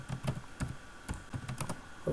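Keys clatter on a computer keyboard in quick, uneven bursts of typing, close and fairly clear with no voices.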